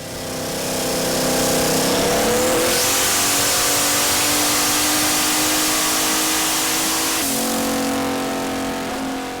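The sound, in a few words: car engine revving during a dyno pull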